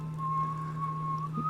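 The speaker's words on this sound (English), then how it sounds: "Daddy whistling." A man whistles a steady, sustained melody in the video game Enderal, a Skyrim conversion mod, heard alone and fairly close over a constant low hum.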